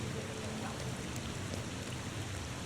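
Steady, dense rain falls in The Thaumaturge, a constant close wash of drops spattering on surfaces with no pauses and no voices.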